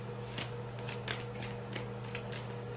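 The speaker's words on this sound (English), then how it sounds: "this was happening while I was shuffling. These cards keep falling out." Tarot cards are shuffled close by in short soft riffling bursts, several quick flutters spaced unevenly over a low steady background hum.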